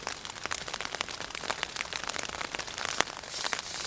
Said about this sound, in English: raining quite a bit heavier now.